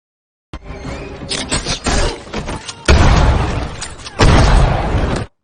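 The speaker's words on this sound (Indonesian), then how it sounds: "baru masuk halaman depan rumah, mobil Hugo terkena ledakan ranjau darat." A car is hit by a landmine blast in the film Rambo: Last Blood, heard as a loud explosive burst followed by two more heavy booming surges with rumbling debris, close and dominant with no speech.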